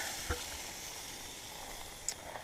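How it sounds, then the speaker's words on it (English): Sausages on a grill at a campsite, giving a faint, steady sizzle with a couple of soft pops, quiet and close, with no one talking. "about 10 minutes ago we put the sausage on the grill"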